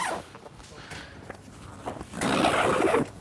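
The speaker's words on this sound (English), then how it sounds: "Remember, pull on our zipper." A zipper on a CarCapsule car storage cover is pulled in short scraping bursts, ending in one longer, louder rasping pull near the end.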